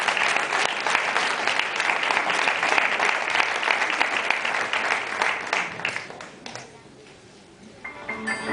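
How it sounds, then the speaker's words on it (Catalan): An audience gives loud, sustained applause for an orchestra at a concert, dense clapping that fades out near the end before a brief pickup of scattered sound. "Un fort aplaudiment per a ells."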